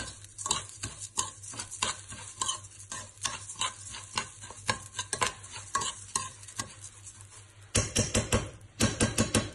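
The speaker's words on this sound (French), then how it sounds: "Je mets dedans mon huile d'olive, mon riz. Je vais le mélanger jusqu'à ce qu'il devienne translucide." Rice being stirred in olive oil in a pan for a gluten-free Ramadan meal: close, repeated scraping and clacking strokes of the spoon against the pan over a light sizzle, growing busier and louder near the end, with no talk.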